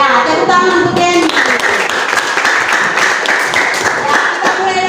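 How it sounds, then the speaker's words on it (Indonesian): Students in a classroom clap together in a loud, rhythmic burst, many hands beating in time close by, with voices mixed in at the start. "tepuk tangan untuk Yeni"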